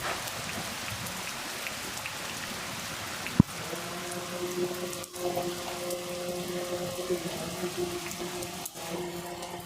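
Steady rain falling on a rural village hut shelter, a dense continuous patter throughout, with a couple of sharp knocks and a faint low hum in the background.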